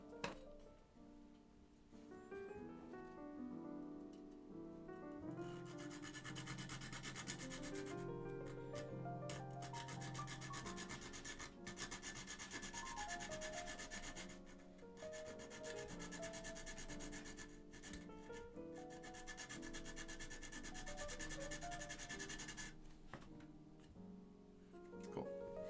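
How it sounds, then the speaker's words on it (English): Keyboard parts are filed during a build of a full-size Sensy Seal board with Alps SKCM Black switches, a faint repeated rubbing rasp running under steady background music with tonal notes throughout. "let's start the fun process of filing now"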